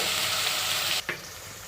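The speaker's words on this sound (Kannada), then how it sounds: "ಈಗ ಸಾಲ್ಟ್ ಹಾಕಿದ ಮೇಲೆ ಬದನೆಕಾಯಿನ ಕಂಪ್ಲೀಟಾಗಿ ಫ್ರೈ ಮಾಡ್ಕೊಳ್ಳಿ." Salted brinjal (eggplant) pieces fry in a pan with a loud, steady sizzle that dips briefly when stirred about a second in, then continues slightly quieter, close and with no talking.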